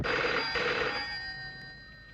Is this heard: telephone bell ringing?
yes